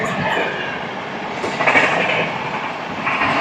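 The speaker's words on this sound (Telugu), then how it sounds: "12296 వస్తుంది సంఘమిత్ర సూపర్ ఫాస్ట్ ఎక్స్ప్రెస్" The 12296 Sanghamitra Superfast Express, running from Danapur to SMVT Bengaluru, rolls past in a sustained rumble of wheels and carriages that swells slightly midway and stays loud throughout.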